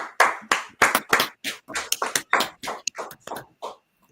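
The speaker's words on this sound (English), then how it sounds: "Clap it up." An audience claps in short, uneven bursts, with sharp separate hand claps close by and a small gathering rather than a large crowd.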